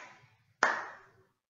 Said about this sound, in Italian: Scusate, devo fare un applauso.